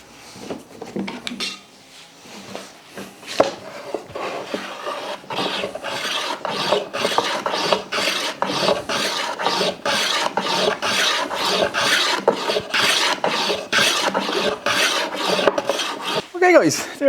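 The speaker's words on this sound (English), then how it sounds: "lots and lots of sanding" Hand sanding a walnut and maple chess board: close, steady back-and-forth rasping strokes in a quick, even rhythm that continue throughout with no talking.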